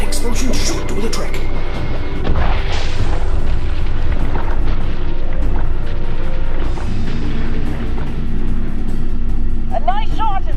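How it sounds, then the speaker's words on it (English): Kinesium charges detonate underwater in I Expect You To Die 3, a heavy booming blast with rumbling debris that fills the scene, followed by brief surging noise and a short electronic trill near the end. "that explosion should do the trick."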